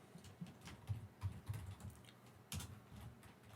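Keys clatter on a computer keyboard in irregular bursts of quick taps, close and fairly quiet, with a louder cluster of strokes near the end and no talking.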